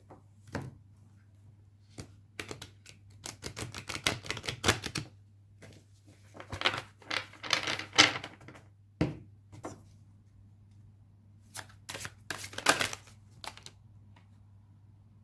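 A deck of oracle cards is shuffled by hand in bursts of quick, crisp riffling and tapping, close and fairly loud, with short pauses between rounds over a steady low hum.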